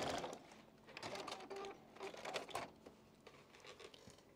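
A sewing machine stitches a patchwork quilt block for a Card Trick pattern, giving a quiet, rapid, rattling run of needle strokes with slight pauses, heard faintly and close.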